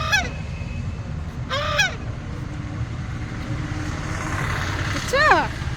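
A goose honks in three separate bursts over steady outdoor background noise, with a child's or adult's voice speaking nearby.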